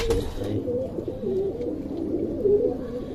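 Pigeons coo softly as they are let out after deworming, a continuous low burbling murmur of several birds, close and moderately quiet.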